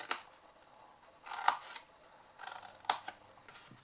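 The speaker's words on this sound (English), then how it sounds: "I'm going to go from the side and cut those little tabs" Paper tabs on a chocolate box template are cut with scissors in three separate bursts of quick, crisp snips, close up with no voice.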